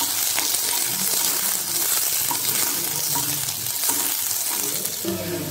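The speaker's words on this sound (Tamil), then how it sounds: "வெங்காயம் நல்லா வதங்கிடுச்சு." Onion sautéing in oil for carrot beans kootu gives a loud, continuous close sizzle with occasional spatula clinks and stirring scrapes throughout.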